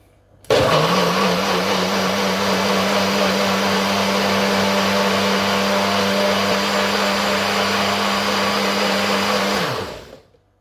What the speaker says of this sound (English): It's going to blend now, so it's going to be a bit of noise.